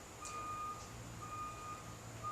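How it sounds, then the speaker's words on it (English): A truck's reversing alarm sounds outdoors at a distance, a faint repeating electronic beep pulsing at a steady interval over a low rumbling background, with no one talking. "It's another truck."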